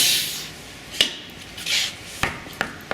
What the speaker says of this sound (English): to unclamp, we're simply going to place our foot under the clamp pedal and pick up